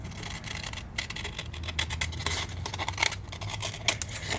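Scissors snipping and scraping through paper while making a hidden paper clip bookmark, a steady close rustling crunch that runs through the whole stretch with no talk.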